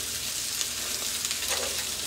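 Sardines on a grill while being turned give a dense, continuous sizzle and crackle at close range, with no voices.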